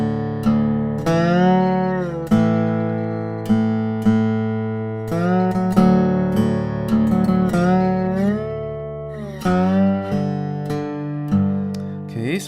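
Slide guitar tuned to open D, played on a lap-style instrument such as a weissenborn or dobro, plays a song intro. Plucked notes ring out clearly with gliding pitches, played alone and close up.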